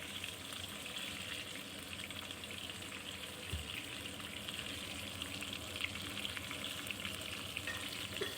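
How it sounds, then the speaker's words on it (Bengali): Tilapia fish fry in hot oil, giving a steady, fairly quiet sizzle and crackle that holds evenly throughout with no talking. "লাল লাল করে মাছগুলোকে আমাদের ভেজে নিতে হবে"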